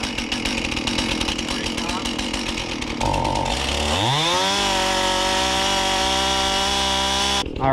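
A chainsaw fires and revs for tree trimming on spruce and pine, its engine rattling at first, then climbing in pitch to a steady loud whine, with a voice talking over it.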